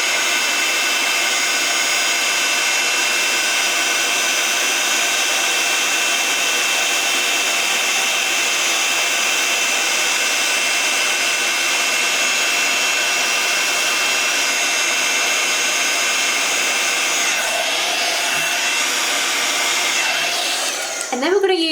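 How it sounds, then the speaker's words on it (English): A handheld heat tool blows steadily and loudly onto embossing powder on a papercraft card, a continuous airy roar with no pauses, dropping away briefly near the end. "I'm going to heat this one up just using my heat tool."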